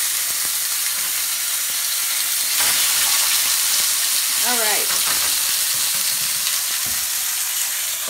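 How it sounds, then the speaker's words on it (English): Salmon fillet pan-frying skin-side after being flipped, a steady loud hiss and crackle of hot oil filling the whole stretch, with a brief squeaky scrape of the utensil midway and a short spoken remark over it. "Now we're going to carefully flip the fish."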